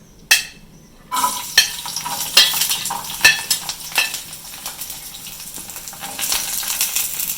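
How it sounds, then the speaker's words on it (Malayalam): Garlic drops into hot coconut oil in a pan with a sudden loud burst of sizzling, then a steady crackling fry punctuated by repeated metallic scrapes and taps of a spoon stirring. "നമുക്ക് വേണ്ട വെളുത്തുള്ളി അങ്ങോട്ട് ഇട്ട് കൊടുക്കാൻ"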